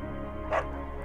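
A beagle barks inside the video game Firewatch, giving two short, faint yips over a steady background hum of game ambience, with no talking.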